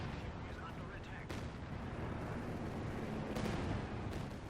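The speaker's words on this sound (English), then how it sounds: "Ooh, we do see got the barrage coming in." An artillery barrage rumbles in Company of Heroes 2, a quiet, continuous low roar of distant shelling with a few sharper swells of impact.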